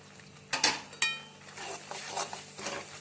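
Grated coconut and cardamom ground with sugar go into a pan while making coconut barfi, with a couple of sharp metallic clinks followed by soft, scraping stirring sounds, close and quiet, with no talk.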